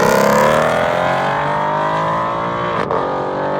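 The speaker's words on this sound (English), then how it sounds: "you will have that glorious open exhaust sound" A loud, throaty V8 open exhaust on a 2018-2019 Mustang GT roars steadily as the car accelerates, the engine pitch climbing smoothly, with a brief dip near the end before the roar continues.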